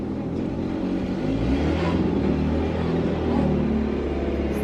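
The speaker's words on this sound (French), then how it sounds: "Entendez-vous la moto dehors?" A motorcycle running outside an open window, a steady engine rumble that swells and fades slightly as it passes, heard from indoors without any talk over it.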